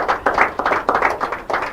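Audience giving a round of applause for participating schools at an inter-collegiate quiz and debate competition, a short burst of close, fairly sparse clapping in uneven pulses, with no voices.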